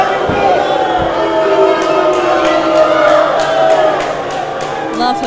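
A wrestling show crowd roars and cheers steadily at an arena, with a continuous dense wash of voices, sharp repeated accents throughout and a commentator talking over it.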